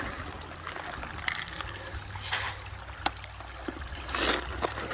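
Water sloshing over rocks taken from an old mine tailings pile and washed in buckets, with faint trickling and splashing and a few sharp knocks and bursts of pouring, fairly quiet overall.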